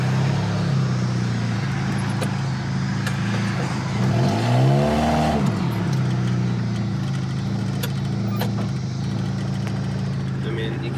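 A lifted Jeep with a new lift and Currie heavy-duty parts creeps forward, its steady engine hum joined by a shaking, rattling drone that swells briefly mid-clip, with a voice speaking over it.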